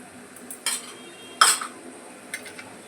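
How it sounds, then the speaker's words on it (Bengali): Spice masala stirred with a little hot water: a few distinct clinks and scrapes of a utensil against a pot, the loudest in the middle, over a quiet background. "মশলাটাকে দিয়ে সামান্য একটু গরম জল একটুখানি মশলাটাকে নাড়িয়ে নেব"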